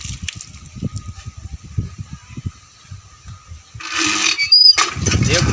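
Water is poured and then drunk in gulps during a Maithili village comedy sketch, with a low rhythmic rumble giving way to a short burst of splashing and gulping near the end.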